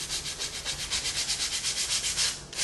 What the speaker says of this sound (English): See, the sanding paddle comes in handy for lots of things.